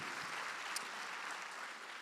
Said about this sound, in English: Let's give a round of applause to all these guys out here